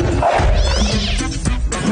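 A cat meows in drawn-out, wavering cries, loud and close, over a steady low background rumble.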